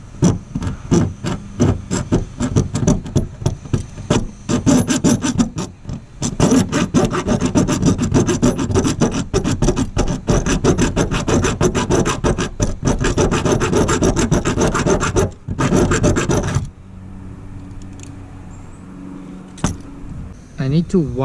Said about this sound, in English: I need to widen the hole, the notch, so I'm using this 8-inch file.